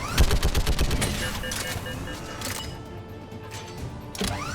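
A rapid burst of gunfire from a weapon in Mass Effect 3, a fast string of close, loud shots that trails off into quieter game sounds before one more sharp blast at the end.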